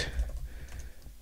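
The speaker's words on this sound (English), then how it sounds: "so I'm just going to type that in manually" Fingers tap a computer keyboard on a Mac while entering a fastboot command, a brief close flurry of soft key clicks.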